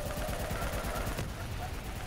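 Rapid automatic gunfire from the video game Call of Duty: Black Ops 3 rattles in quick bursts over a dense, noisy battle background, fairly faint and continuous.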